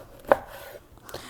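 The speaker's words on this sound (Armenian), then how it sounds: "ուրեմն տանցերը այսպես կտրատելու եմ, 4 մասի։" A knife cuts pears into quarters on a board, with one sharp, close chop followed about a second later by a softer second cut.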